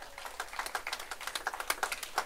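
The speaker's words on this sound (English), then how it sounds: "Can we clap for them?" An audience at a primary schools quiz and poster competition applauds the winning school with a brief patter of scattered claps, moderately faint and steady.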